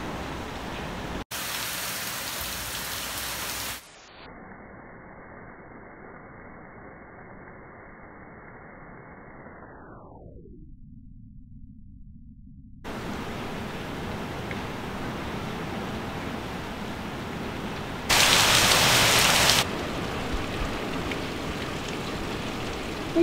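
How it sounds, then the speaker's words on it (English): Heavy rain pours outside a house near the water's edge on Eleuthera, a steady loud hiss that turns muffled and dull for a stretch mid-clip before the full downpour returns, with no voices. "Okay, now we're talking some serious rain."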